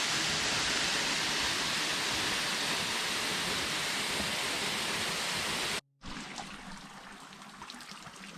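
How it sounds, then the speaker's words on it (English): A waterfall beside a forest trail in Madeira: a steady, dense rush of falling water fills nearly the whole stretch, loud and close, then cuts abruptly to a quieter, softer flow for the last few seconds. "All along there are waterfalls, such as this one here."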